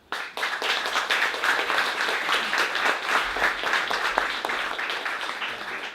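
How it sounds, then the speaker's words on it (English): An audience applauds after an evening of technical presentations, with dense, steady clapping that starts abruptly and stays loud and even for several seconds without any talk. "big round of applause to all of our presenters tonight"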